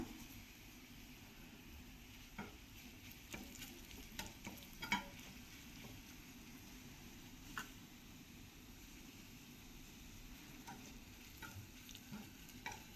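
Drumstick leaves fry with garlic in a pan, giving a faint, steady sizzle. Scattered soft clicks and scrapes of stirring sound over it, with no talking.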